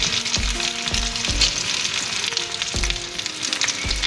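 Potatoes fry in a single layer in a pan for Southern-style smothered fried potatoes, giving a steady, close sizzle with occasional soft knocks and stirring sounds and no talking.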